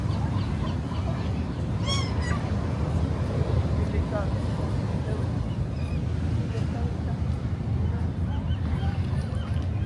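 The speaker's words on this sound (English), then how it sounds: "Look at the birds." Seabirds at La Jolla Cove give a few short honking calls amid steady coastal wind noise, while people talk nearby.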